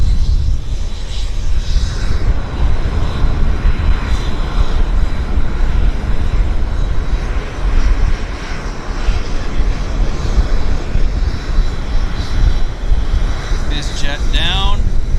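A WestJet airliner lands at Vancouver International Airport, its loud, steady engine roar and rushing noise filling the air close by, with a rising whine near the end and people talking over it.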